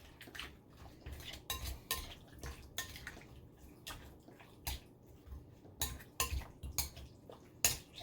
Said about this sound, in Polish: Dodajemy pieprzu trochę. I wszystko ładnie mieszamy.